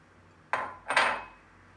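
Ice cubes dropped into a blender jar holding fresh mango for a frozen mango daiquiri make two quick, close clattering thuds a split second apart, with no talking.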